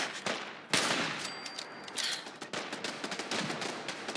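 Gunfire in the video game Fallout 4, a dense burst of rapid shots starting with a loud crack and continuing as a steady stream of close, sharp reports throughout.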